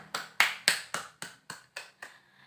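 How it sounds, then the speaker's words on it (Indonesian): Classmates give a short round of applause after a student group's presentation in a practice teaching class, with roughly eight crisp, evenly spaced claps that fade near the end. "Mari kita berikan tepuk tangan."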